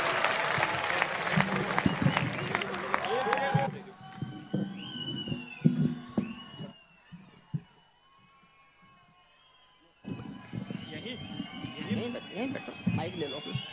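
An audience at a Hindi poetry recital by Dr. Hariom Pawar breaks into dense, lively clapping, which drops away into scattered sounds and murmurs before a second burst of applause rises near the end.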